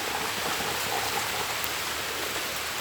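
Rain falling steadily and close by, a dense even patter with no voices.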